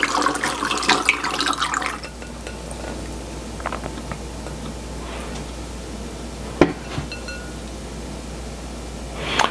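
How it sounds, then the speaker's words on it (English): Strained herbal water poured into a bottle: a splashing trickle at first, then quieter dribbles and a few small clinks, close by with no speech. "So I am just straining it out and just pouring it into my bottle."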